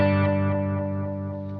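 A Telecaster guitar chord through a Sonicake Levitate pedal set to a fast-repeat delay with heavy feedback and long reverb rings out alone and decays smoothly over under two seconds.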